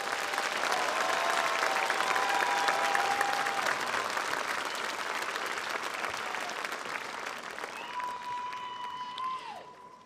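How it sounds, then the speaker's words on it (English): Sustained applause from a large audience honoring graduates and honor graduates at the Hempfield Area School District 2023 graduation ceremony, steady and dense throughout, fading slightly toward the end with a few whistles mixed in. "Can we have another real round of applause for all of our graduates and honor graduates,"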